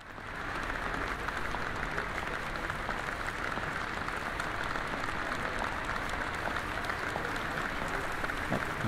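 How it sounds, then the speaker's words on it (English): Crowd applause in the video game Detention, a dense, steady clapping that swells in quickly and holds at an even level throughout. "Everyone's here to applaud us."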